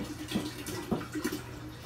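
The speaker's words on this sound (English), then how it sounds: "now is when I add the rest of my water to cool it off" Room-temperature purified drinking water pouring steadily into a kombucha brew, a continuous close splashing flow with small gurgling bursts throughout.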